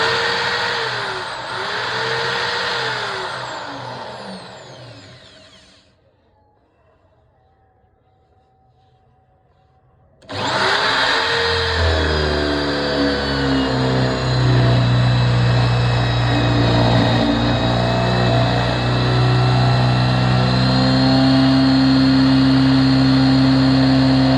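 A bench drill switches on and runs with a loud, steady motor whine and hum and a rising whir. It is close and continuous after a brief quiet gap, with no talking.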